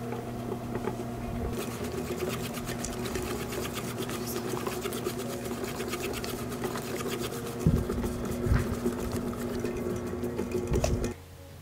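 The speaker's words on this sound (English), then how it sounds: "set to Pound and click Start. Let it run until flour turns to a ball, then it is ready." A mochi machine set to pound runs steadily, kneading flour into noodle dough with a continuous mechanical whirr and a rapid rhythmic thumping, close and even throughout with a few louder knocks near the end.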